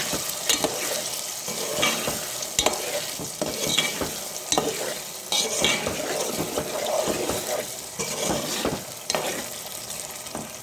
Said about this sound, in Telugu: చామదుంప ముక్కలు ఆయిల్లో ఫ్రై అవనిద్దాం